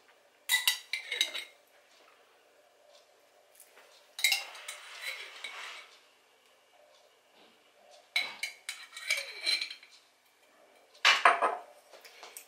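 A spoon clinks and scrapes against a bowl while a seafood filling is stirred together with mayonnaise, in separate bursts of close clattering separated by quieter pauses.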